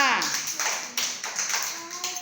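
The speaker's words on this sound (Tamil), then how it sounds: "வேமா கை தட்டுங்கம்மா" Children clap their hands during a classroom activity, a steady run of sharp, close claps about every half second, with an adult voice talking over the start.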